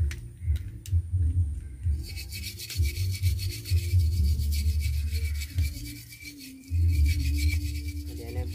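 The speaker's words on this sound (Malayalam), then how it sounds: "ഇതുപോലത്തെ സ്ക്രബ്ബർ വെച്ചിട്ട് ഇങ്ങനെ ഉരച്ച് നമുക്ക് ക്ലീൻ ആക്കാം" Scrubber rubbed hard against a plastic bottle to clear off sticker residue, giving close, rhythmic back-and-forth scraping strokes with short pauses between bursts.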